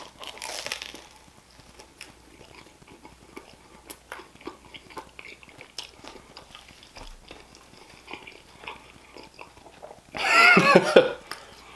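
Someone eating a steak sandwich on crunchy bread with cheese, with soft chewing and biting noises near the mic throughout, ending in a louder burst of crunching and crinkling.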